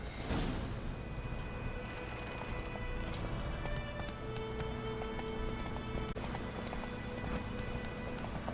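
Horse hooves clip-clop at a steady rhythm in The Witcher 3, set against a dense ambient backdrop of wind and game atmosphere.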